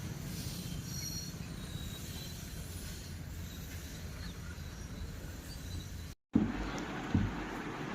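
A Central Railway train rumbles steadily past on the tracks with a faint metallic squeal, then a short gap and a couple of brief knocks.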